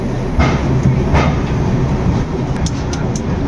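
Vivek Express pulling out of Renigunta junction station, a steady loud rumble of the moving train with faint rhythmic wheel clicks and brief rattles throughout.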